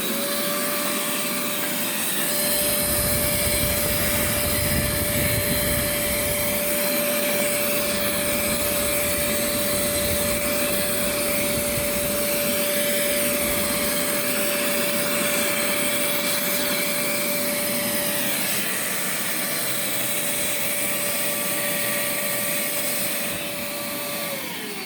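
A Kirby vacuum cleaner runs with its hose attached, a loud, steady close drone with a constant whine that holds for the whole stretch and shifts slightly near the end.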